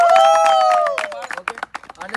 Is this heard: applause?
yes